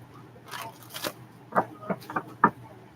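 Several quick papery riffles and taps of tarot cards being shuffled, a few distinct bursts close by over a quiet background.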